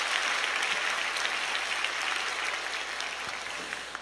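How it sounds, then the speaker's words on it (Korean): Church congregation applauding in encouragement during a special Thanksgiving dawn prayer service, a steady dense wash of many hands clapping throughout, fading slightly toward the end. "우리 박수로 격려 한번 하셨으면 좋겠어요"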